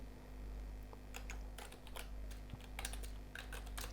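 Code being typed on a computer keyboard during a C programming lesson: close, fairly quiet key clicks in irregular bursts with short pauses, no voice heard.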